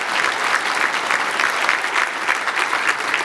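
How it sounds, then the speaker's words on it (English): A keynote audience gives a warm, steady round of applause to welcome Corinne Kepper from Aritzia onstage at a Salesforce Essentials event in Vancouver, with dense clapping that continues evenly throughout. "Come on up and give a warm round of applause to Corinne Kepper from Aritzia."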